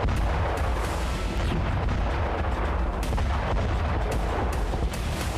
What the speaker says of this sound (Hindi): यूक्रेनी फोर्स ने रातेल ड्रोन से इस पुल को उड़ा दिया।